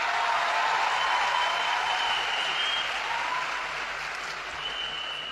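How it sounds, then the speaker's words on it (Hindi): Loud, sustained applause from a large audience at a Delhi public event, a dense wash of clapping that fades slightly toward the end, with no talk over it. "तो एक बार जोरदार तालियां देश के प्रधानमंत्री नरेंद्र मोदी जी के लिए।"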